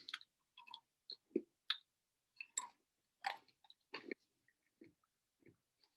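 Someone chews a handful of very hot nuts up close: a series of crunchy bites and wet mouth clicks in irregular bursts with short quiet gaps, fairly faint and with no talk.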